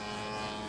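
A model AMR tow plane with a twin-cylinder gasoline engine drones during an aerotow, a steady, buzzing engine tone held for under a second with no break or talk.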